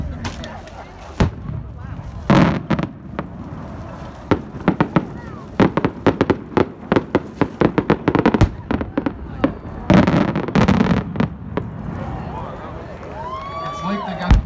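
Daylight firework shells at a winter fireworks show pop in rapid strings of sharp reports, with several multi-break shells bursting near and loud, while a crowd murmurs and people talk in the background.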